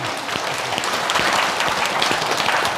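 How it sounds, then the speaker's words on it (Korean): Pilgrims at a Buddhist temple prayer gathering in Cheonan clap for the host, a dense, fairly loud round of applause sustained for nearly three seconds. "사회자님께 박수 한번"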